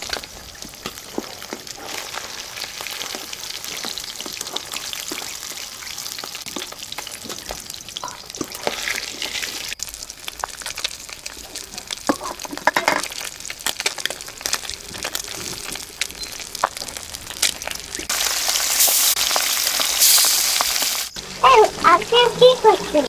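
Pabda fish frying in oil crackles and hisses steadily, with scraping and stirring clatter and a louder burst of sizzling near the end, faint voices occasionally underneath.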